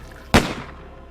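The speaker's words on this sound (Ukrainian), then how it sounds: "Крик Володимира обірвався пострілом." A single sharp gunshot cracks out loudly within a horror story, then decays quickly into quiet.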